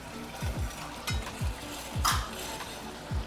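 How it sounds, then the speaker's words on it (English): A spoon stirs seasoning into a pan of Puerto Rican steak and onions, bistec encebollado, scraping in short repeated strokes over a soft background sizzle, with one brief louder clatter partway through. "And we'll just mix that in."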